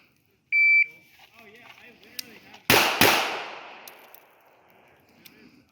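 During timed shooting training in the rain, an electronic shot timer beeps, then two sharp gunshots crack in quick succession with a ringing outdoor decay; a faint voice is heard before the shots.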